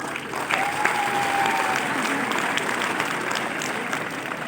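Steady applause from the audience at a Satinder Sartaaj live show in Italy, a dense wash of clapping from a large crowd that stays even throughout, with a faint whistle near the start.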